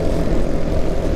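A SYM/Dafra NH 300 single-cylinder motorcycle engine revs high, giving a loud, steady, buzzing drone that holds constant throughout.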